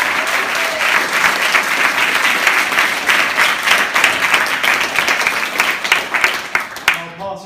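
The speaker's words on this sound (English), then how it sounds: "So please give her a big round of applause." A crowd applauds loudly and steadily for a visiting DJ and producer at a live student society event, the dense clapping holding for several seconds before cutting off abruptly at the end.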